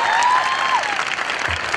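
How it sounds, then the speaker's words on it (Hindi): Loud audience applause fills a hall at a speech event in Rajasthan, dense steady clapping from a large crowd with no voices over it. "सबसे पहले तो ताली बजाओ अपने अपने लिए बहुत जोर से।"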